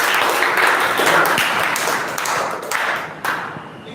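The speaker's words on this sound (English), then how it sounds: "please give him a clap" A classroom audience claps for a student, a dense burst of applause running steadily for about four seconds and thinning slightly toward the end.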